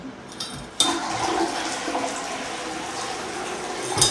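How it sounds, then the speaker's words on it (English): A toilet flushed during a move-in apartment inspection: a sharp start, then a loud continuous rush of swirling water lasting several seconds, heard up close with no talking. "Let's do a quick flush test."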